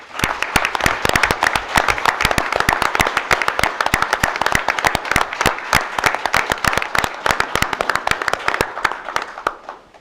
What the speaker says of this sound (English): I'm going to give him one more round of applause before I go